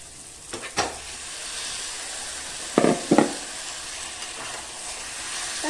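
Chicken meat is added to hot spiced oil for a fried-masala chicken curry, making a steady close sizzle with several louder bursts and scraping stirs in between.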